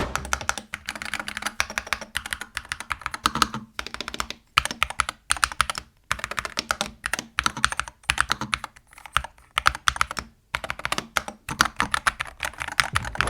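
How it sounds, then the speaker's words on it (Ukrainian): Fast continuous typing on an Ajazz AK680 MAX mechanical keyboard, close and crisp clacking keystrokes in irregular bursts with brief pauses, no voices. "давайте послухаємо тайпінг даної моделі"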